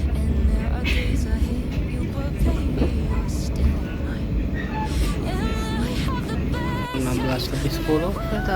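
The Brawijaya train departs Malang Kota Lama station, rumbling and rolling along with steady mechanical noise and rising squeals, while people talk over it throughout.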